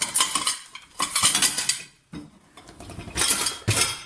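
Metal cooking pots and lids handled in a home kitchen while a small soup pot and its lid are found and stacked, giving close bursts of clanking and scraping with brief pauses between.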